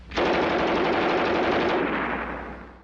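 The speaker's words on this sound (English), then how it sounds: "a high-pitched mechanical sawing. Not a motor, not a tool, it's the MG42." A German MG42 machine gun fires one continuous, extremely rapid burst, a loud tearing buzz lasting over two seconds before tailing off.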